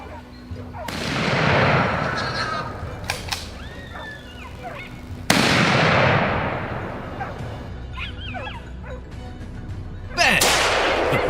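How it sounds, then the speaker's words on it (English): Gunshots ring out during a wild boar hunt, three sharp blasts spaced several seconds apart, each with a long fading echo. Dogs bark and yelp between the shots. "At close range, Jay took his shot."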